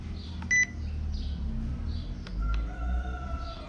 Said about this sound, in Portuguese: Tem que esperar o bip.